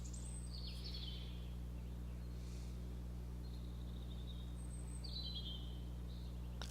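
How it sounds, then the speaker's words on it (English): Birds chirping in the video game Life Is Strange: a few faint, high, separate tweets spaced seconds apart over a steady low hum. "I hear birds"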